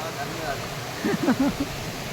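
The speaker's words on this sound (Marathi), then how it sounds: "सुंदर अशा धबधब्याने स्वागत असं केलंय" Devkund waterfall near Bhira village in Raigad roars as a constant broadband rush in the background, while a voice speaks briefly over the steady water noise.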